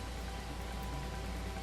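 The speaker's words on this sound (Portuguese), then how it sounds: "E tá chovendo." Steady rain in the video game No Man's Sky, falling on a lush tropical planet with many trees and grass, a continuous even wash of rainfall with no talk over it.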